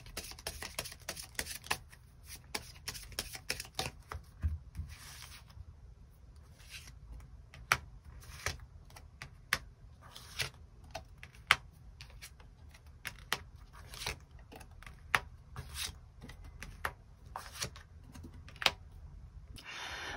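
Tarot cards shuffled and drawn during a Korean weekly reading, heard as steady rapid clicking and light slaps of card against card, close and fairly quiet, with no voice over it for about twenty seconds.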